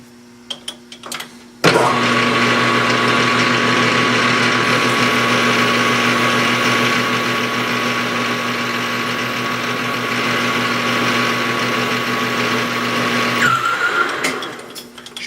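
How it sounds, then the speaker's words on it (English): A power drill spins up and grinds steadily into a metal taper lock hub for about twelve seconds, a loud continuous whine with a constant hum, then winds down. "Drill it a little deeper."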